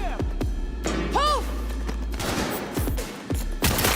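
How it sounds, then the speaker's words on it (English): Loud bursts of gunfire from a noisy weapon in the video game Cyberpunk 2077, rapid sharp shots with impacts and crashes in a chaotic firefight, with a brief electronic whine midway. "Went with the noisy gun. Stealth didn't work on that occasion."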